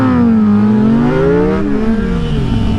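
Motorcycles accelerate hard in a street race, loud engines climbing and shifting through rising whining tones close by, with no voices over them.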